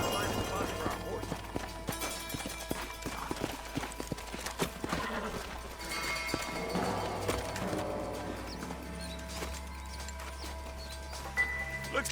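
Horses' hooves clip-clopping in the Western video game Red Dead Redemption, a faint, irregular patter under game music and characters talking.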